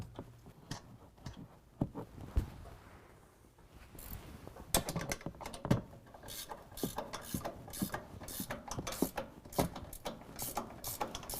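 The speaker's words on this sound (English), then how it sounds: "Now we're going to use a 15mm ratcheting wrench to tighten those down." A 15mm ratcheting wrench tightens bolts while installing a leveling kit on a 2017 Ford Raptor, giving close, rapid bursts of clicking ratchet pawl strokes with short pauses between them.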